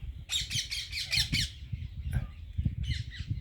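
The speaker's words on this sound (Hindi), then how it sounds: "ये हमारे कोयल आई हुई है अभी" A koel calls from a rooftop parapet, a close run of about six sharp repeated squawking notes followed by a pause and a couple of fainter calls, with quiet low rumble beneath.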